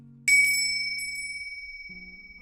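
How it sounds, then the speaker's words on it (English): A bell is struck once with a bright metallic ding that rings on and slowly fades, over a low steady hum that drops out and returns. "Then I heard the bell ringing from my mother-in-law's room."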